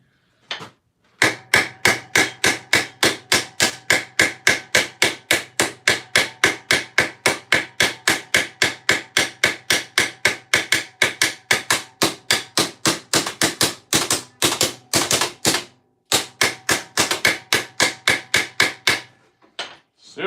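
Metal armour pieces hammered cold, a long steady run of sharp, ringing blows at a quick even rhythm, loud and close, with a brief pause near the start and a slightly faster burst later on.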